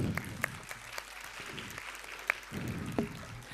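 Audience applause at a school annual function, honoring teachers and staff after the children's stage performances; a steady wash of clapping with crowd murmur and some voices underneath, moderately loud throughout.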